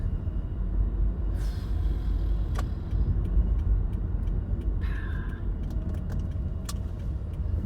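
A car being parked, with a low steady rumble from inside the cabin and a few faint clicks and ticks on top. No one speaks.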